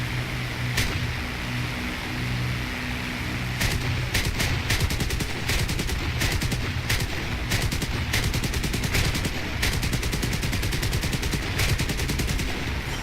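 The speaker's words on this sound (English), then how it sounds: "I can hear gunfire." Video game gunfire rattles in rapid bursts of close shots, some quick automatic strings and some single cracks, loud and continuous over a low background rumble.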